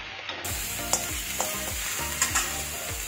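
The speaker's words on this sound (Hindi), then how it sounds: "साथ ही हम इसमें डाल देंगे गार्लिक। इसको थोड़ा सा भून लेंगे" Garlic sizzles and fries steadily in hot oil in a pan for vegetable fried rice, with a few sharp clinks and scrapes of a stirring spoon breaking through the constant close, even crackle.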